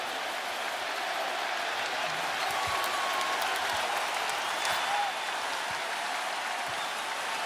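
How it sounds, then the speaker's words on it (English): An NBA playoff crowd at a Cavaliers vs Knicks basketball game in overtime, roaring and applauding in a steady wash of cheering and clapping across the arena, with a few sharp squeaks and shouts standing out. "So much of the crowd on its feet."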